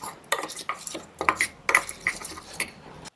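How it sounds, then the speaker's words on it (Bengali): Spice paste for a dried fish bharta is mixed with water, a utensil clinking and scraping against a bowl in quick, uneven strokes, close and fairly loud with no talk. "যার জন্য এইভাবে আমি মশলাটাকে একটু মিশ্রণ করে নিলাম ভালো করে।"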